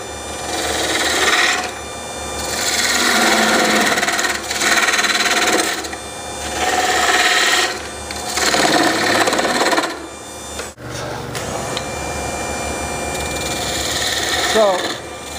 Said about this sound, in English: I'm going to scoop just scoop with the point about halfway between the two lines